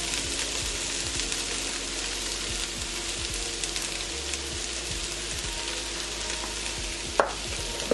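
Cabbage being stirred as it caramelizes in a pan, with a steady loud sizzle, soft scraping strokes throughout and a sharp clink near the end.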